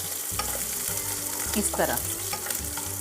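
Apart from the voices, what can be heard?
green chillies being fried in a pan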